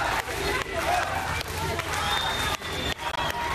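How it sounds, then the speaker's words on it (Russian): Airplane passengers applauding and cheering the crew after an emergency landing, a close, continuous burst of clapping with excited voices mixed in, briefly dipping in a few spots. "Пассажиры аплодируют и благодарят за спасение."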